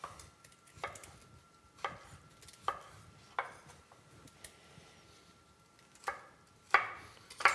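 A knife chops vegetables, including aubergine and courgette, on a cutting board for a Piedmont-style spaghetti sauce. The cuts are sharp and sparse at an irregular pace, close and fairly quiet.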